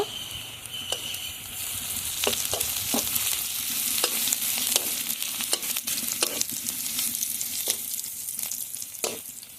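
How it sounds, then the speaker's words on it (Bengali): Onion and garlic frying with cardamom and cinnamon for a Bengali pigeon meat curry, a steady sizzle broken by repeated scraping stirs of the spatula, close and alone. "পেঁয়াজের সঙ্গে রসুনটা ভালোভাবে ভেজে নেব।"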